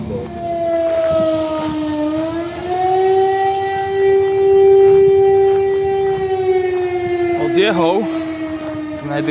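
A loud, steady siren wails at length in Hrádek nad Nisou, Czech Republic, its pitch holding high with slow rises and falls, while wind buffets the microphone and a voice briefly talks.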